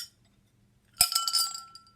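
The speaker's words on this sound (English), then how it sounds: "he added pebbles into the glass" A pebble dropped into a glass of water gives one sharp, bright clink followed by a short ringing, splashy rattle that fades within a second, close and alone.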